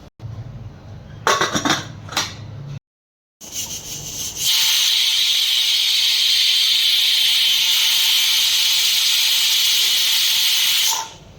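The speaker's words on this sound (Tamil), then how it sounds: "குக்கர் போட்டு மூடிட்டு ஒரு 4 விசில் இல்லைன்னா 5 விசில் விடுங்க" A pressure cooker of wheat rava kichdi lets out a loud, continuous hissing whistle of steam lasting several seconds, preceded by a few brief metallic clinks and a short silence.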